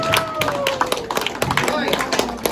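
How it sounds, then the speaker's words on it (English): Scattered hand claps from a small group at a children's birthday party after a magic card trick, close and uneven, with a voice talking over them. "Give him a round of applause,"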